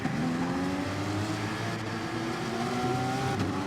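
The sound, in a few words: race cars starting at Bathurst in racing video game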